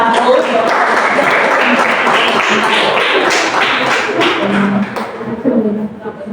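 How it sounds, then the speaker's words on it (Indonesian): Classroom applause for a student group after a physics practical presentation on Hooke's law, a steady patter of many hands clapping that thins out toward the end, with voices mixed in. "Kita berikan aplaus sekali lagi untuk kelompok 1"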